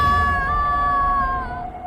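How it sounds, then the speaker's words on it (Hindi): A woman named Preeti lets out a sustained high, wavering scream in a horror story, loud and held for nearly two seconds before trailing off over a low rumbling background. "प्रीति की चीख की आवाज से सारे दोस्त चौंक गए"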